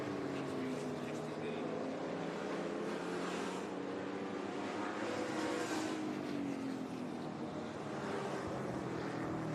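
Vintage race cars at Laguna Seca drone past at a distance, a continuous blended engine roar with shifting pitch under a race commentator's voice.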